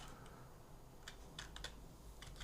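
Fingers type on a computer keyboard, a short burst of quick light key clicks after a quiet pause, close and soft over faint room hiss.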